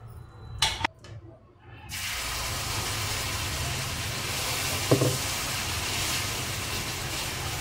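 After a couple of clatters, a steady sizzling hiss rises from a hot griddle cooking gram flour flatbread and continues evenly, with one brief knock midway.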